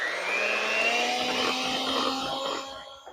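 Steady whirring motor of an electric mixer beating pancake batter in a home kitchen, loud and continuous with a slight pitch drift, tapering off near the end.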